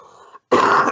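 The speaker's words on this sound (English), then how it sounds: "Some of that DreamHack cough still in my throat." A single harsh cough, loud and close, bursts out after a brief silence and fills the second half, following a softer muffled throat sound.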